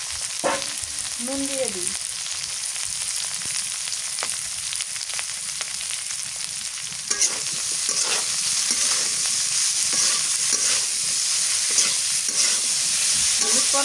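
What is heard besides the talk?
bitter gourd and potatoes frying and being stirred in a pan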